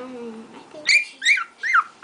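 Shih Tzu puppy whimpering and crying in high, rising whines, three or four close cries in a row after a quieter stretch with faint voices.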